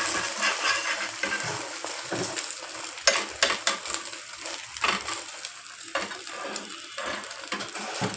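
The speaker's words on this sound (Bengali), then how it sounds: "তেলটা যত বেশি গরম হবে ডিমটা তত সুন্দর হয় ফুলে উঠে" Egg frying in hot oil with chopped onion and chili for a sandwich, with a steady broadband sizzle and crackle and scattered sharp pops and scraping clicks from stirring; no talk.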